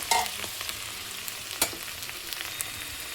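Onion stalks (peyaj koli) frying in a pan, giving a steady soft sizzle with occasional scraping from stirring and a sharper clank around midway, close and with no talking.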